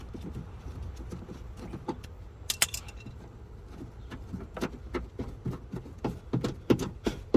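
A ratchet or wrench clicks repeatedly while undoing 8mm bolts on a BMW E38 7 Series rear bumper, with rapid metallic ticks and a few sharper clanks, close and fairly quiet.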